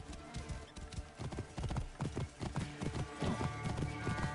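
Horse hooves clip-clop steadily through Assassin's Creed Origins, with a whinny mixed in over layered game music and ambience; the galloping rhythm runs continuously and close.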